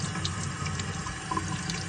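Cold tap water runs steadily over a Dyson vacuum filter, a close, constant splashing hiss from the faucet into the sink with no talking.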